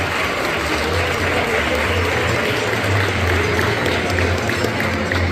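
An audience at the Festival del País in Paraguay breaks into loud, dense applause, a continuous roar of many clapping hands with a low crowd rumble beneath.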